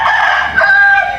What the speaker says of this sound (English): but this is a rooster